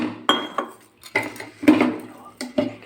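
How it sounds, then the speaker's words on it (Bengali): Grated coconut with chili powder and water is kneaded by hand in a bowl for coconut bora, heard as close, irregular knocks, squelches and clinks against the bowl in short bursts. "জল নিয়ে মেখে নেবো"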